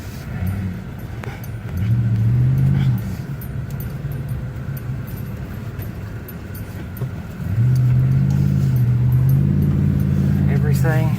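A car accelerates through a burning forest while evacuating from a Northern California wildfire in 2018. The engine drones steadily and rises in two louder surges, with tense voices talking over it.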